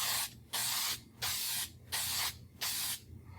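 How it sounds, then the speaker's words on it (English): Five short bursts of aerosol spray hissing onto a gouge being repaired in wood, each about half a second, evenly spaced with brief pauses between, close and steady. "Now I'm just going to start spraying here"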